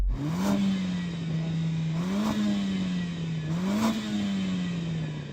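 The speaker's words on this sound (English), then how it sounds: "Yanni, rev up your engine." A five-cylinder Audi RS3 engine revs up and settles three times in a steady cycle while stationary, a loud, close, throaty drone rising and falling under no talk.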